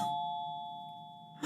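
A single doorbell chime rings out clearly, a sustained bright tone that slowly decays in near silence before a faint noise at the end.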